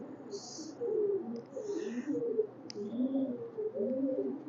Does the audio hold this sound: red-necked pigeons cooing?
yes